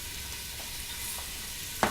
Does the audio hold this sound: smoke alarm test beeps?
no